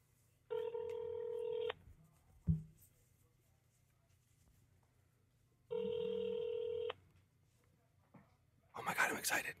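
A telephone on speakerphone rings out twice in long electronic trills separated by a few seconds of quiet, with a short knock between them and a brief burst of hushed voices at the end.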